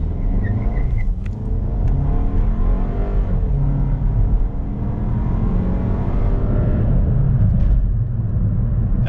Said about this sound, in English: I want to do the acceleration one more time from a dig.